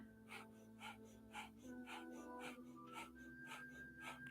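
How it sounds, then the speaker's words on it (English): Slow, even breaths drawn in and out through the nose during a gentle Kundalini breathwork session, soft airy pulses repeating steadily about every half second over a low sustained musical drone. "you'll begin breathing evenly in and out of your nose with a diaphragm"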